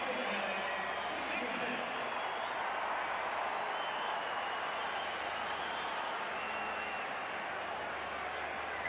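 A stadium crowd cheers after a Queensland try in a 1995 State of Origin Game 3 rugby league match, a steady distant roar running throughout beneath a commentator's voice.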